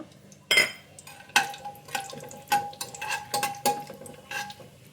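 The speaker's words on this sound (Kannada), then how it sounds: "ಬನ್ನಿ ಈಗ ಮೊದಲಿಗೆ ಗೋಡಂಬಿನ ಫ್ರೈ ಮಾಡಿ ಎತ್ತಿಟ್ಕೊಳ್ಳೋಣ" Cashews frying in a pan for menthe bath, with a spoon clinking and scraping against the metal at irregular intervals over a light sizzle.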